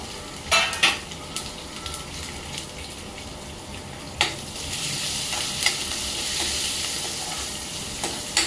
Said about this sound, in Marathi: आणि ही आहे लाल मिरची, ती पण आपण तडक्याला देऊया।